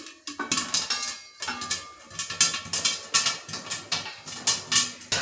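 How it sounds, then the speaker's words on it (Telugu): Jowar (sorghum) grains roasting in a covered pan: a steady run of sharp pops and taps against the lid, rapid and irregular at first, then settling into rhythmic bursts, close and moderately loud with no talking. "చూడండి, వేగుతున్నాయి, ఎగిరి బయటికి వెళ్ళిపోతాయండి, అందుకే మూత పెట్టాను."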